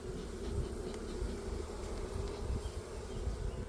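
Honey bees hum steadily inside a mini mating nuc, a close, dense, continuous buzz with low drone throughout and no voices.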